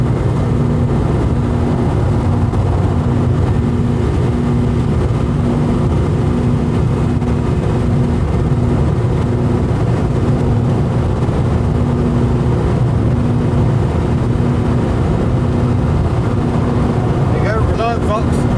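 Steady engine drone and road roar from inside a Reliant Fox driving on the M42 motorway around Birmingham, a constant loud rumble with a faint hum throughout.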